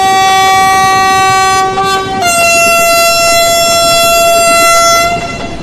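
A locomotive horn in the Trainz Simulator game on the Visakhapatnam route sounds a loud, sustained multi-tone chord that steps down in pitch partway through and holds steadily for several seconds before cutting off.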